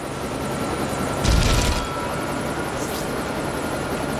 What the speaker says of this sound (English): Really? You can fly a helicopter?